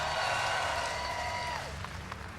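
A BlizzCon crowd at the StarCraft II finals cheers and applauds for NEXGENUIS, a broad, distant wash of voices and clapping that fades slightly toward the end.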